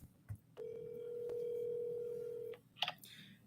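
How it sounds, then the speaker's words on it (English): A telephone tone holds steadily for about two seconds, followed by a brief burst of short clicks or dial tones, close and clear with no talking. "we're going to make a phone call real quick"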